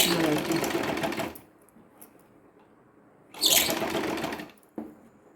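A sewing machine stitches a size 36 blouse in two loud, close bursts separated by a quiet pause, and someone talks over it.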